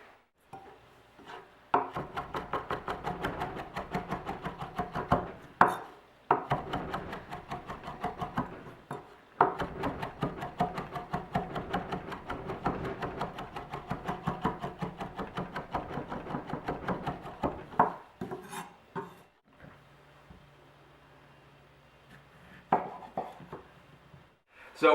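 A knife slicing a lemon wedge and chopping herbs on a board, with rapid, even tapping strokes in long runs broken by short pauses, close and clear.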